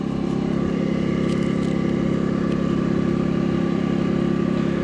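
A small Baotian 50cc moped engine idles steadily with an even, buzzing putter. No other sounds break in.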